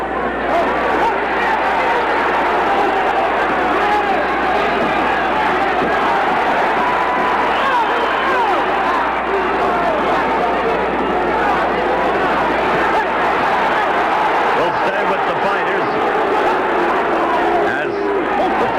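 A 1980 US–Cuba amateur boxing crowd murmurs and jeers in disapproval, a loud, continuous wash of voices with occasional shouts, and a commentator talking over it.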